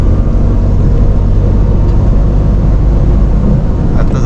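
A car drives along a smooth village road through Jui village in the Konkan region, its engine and tyre rumble a continuous, close, low drone with no speech over it.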